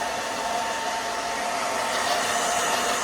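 A hair dryer blows steadily while drying hair with a brush during pixie-cut styling, a loud, unbroken close-up whoosh with no voices over it.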